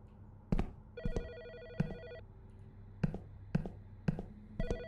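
A telephone in the game Autopsy Simulator rings in short electronic bursts, fairly faint, mixed with intermittent sharp clicks and taps.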